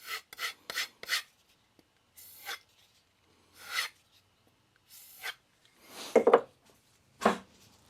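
A knife blade stroked across a 400-grit FSK vitrified diamond sharpening stone, a series of short gritty rasping passes, some in quick bursts and others spaced apart, close and distinct with no talking.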